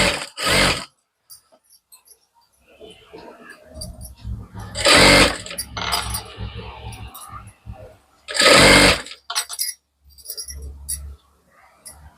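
A sewing machine stitches the double-folded hem of a blouse in several close bursts of mechanical whirring, with short pauses between runs and quieter fabric handling in the gaps.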